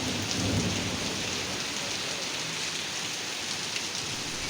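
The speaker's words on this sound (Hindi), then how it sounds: "यहाँ बादल खूब गरज रहे थे" Heavy rain pours steadily on a street during a thunderstorm, with a low rumble of thunder early on; a dense, loud, continuous wash with no voices.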